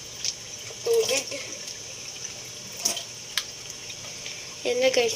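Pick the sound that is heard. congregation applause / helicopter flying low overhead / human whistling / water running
water running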